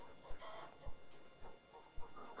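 Chickens clucking in a homestead coop, a few short clucks spaced irregularly over a soft background.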